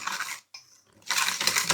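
Flour and cake batter being mixed in a bowl by hand, a close, brisk scraping and tapping that breaks off for a moment of near silence and then resumes more busily.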